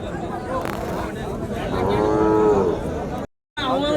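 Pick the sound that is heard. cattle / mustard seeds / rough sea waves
cattle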